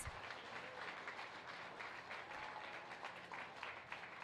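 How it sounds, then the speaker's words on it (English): Steady, dense applause from a crowd at a county 4-H fair gilt show, a continuous wash of clapping held at an even level for several seconds, somewhat distant and muffled. "Let's give them all a huge round of applause."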